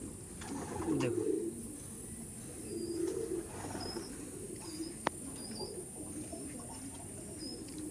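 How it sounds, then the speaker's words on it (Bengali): Plain Madras-type pigeons from Kolkata give soft, low cooing calls at a bird sale in Khardah, two faint bouts of coos over steady background hiss and a few distant chirps. "এটা প্লেন ম্যাড্রাস পায়রা"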